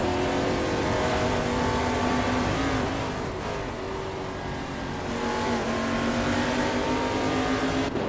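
Race cars roar continuously in a racing video game, with a dense, loud engine drone and rising and falling revs that layer over one another for the whole stretch.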